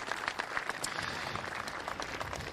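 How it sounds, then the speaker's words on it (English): An audience at a surf competition celebration claps for the Merewether Surfboard Club, a continuous patter of many hands with sharper individual claps poking through. "Big round of applause for the Merewether Surfboard Club"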